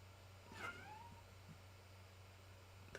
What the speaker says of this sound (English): kitten is meowing at me.